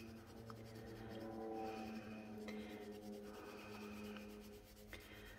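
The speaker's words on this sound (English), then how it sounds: "So we're just going to sand that part up." Sandpaper rubbing over the bottom of a polymer clay pendant, a quiet continuous scratchy back-and-forth scrubbing close by.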